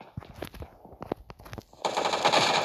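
Rapid automatic gunfire from the PUBG Mobile Lite video game, scattered game shots followed by a loud sustained burst of fire toward the end.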